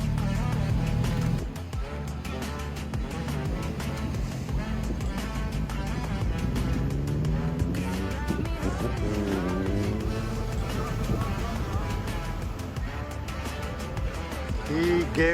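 Motorbike on a UK-to-Pakistan ride accelerating hard in second gear, engine note rising in sweeping pitch climbs over steady wind and road noise, with people talking over it.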